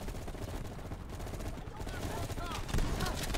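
Shotgun blasts and surrounding gunfire in a Call of Duty: Black Ops Cold War campaign mission, dense overlapping shots in a busy battle mix with a louder burst near the end.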